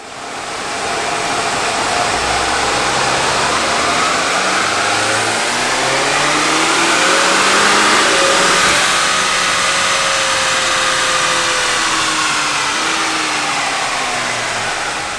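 10th gen Honda Accord fitted with a 27WON Kuro hybrid turbo on a dyno, engine pulling hard through a long sustained run with rising and falling harmonics and a loud, steady roar throughout.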